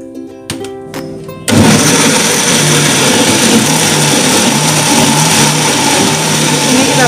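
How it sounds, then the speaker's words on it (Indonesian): A blender whirs loudly and steadily while blending rendang ingredients, starting abruptly after a brief moment of clatter and continuing as a dense, sustained motor roar. "Ini kita blender selama 1 menit lagi ya"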